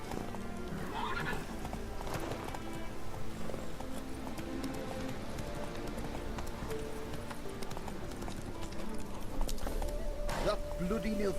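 A horse in The Witcher 3 gallops with steady, close clip-clop hoofbeats and neighs partway through, while a voice talks over the game sounds.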